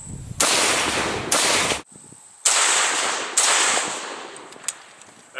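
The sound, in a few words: SKS rifle firing 7.62x39 rounds at ceramic armor plate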